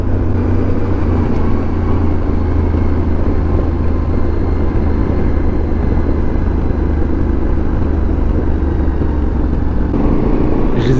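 A Yamaha R7 motorcycle with a CP2 twin engine is being ridden, giving a loud, continuous, low engine drone with steady rumble and road noise throughout, with no speech.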